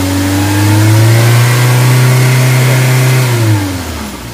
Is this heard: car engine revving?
yes